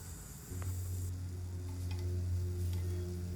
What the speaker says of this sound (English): we will flip the zucchini slices and the tomato halves